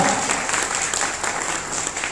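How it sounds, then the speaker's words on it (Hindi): Steady, dense applause from an audience at a network marketing direct selling event, continuous clapping filling the hall at an even level throughout. "कितनी बढ़िया ताली होनी चाहिए सर"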